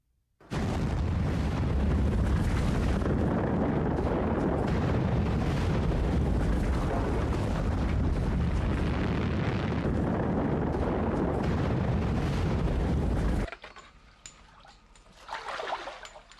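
The Toba supervolcano eruption in Sumatra roars as a sustained, loud, broadband blast of rumbling and crackling for about thirteen seconds, then cuts abruptly to faint trickling debris and a small late swell.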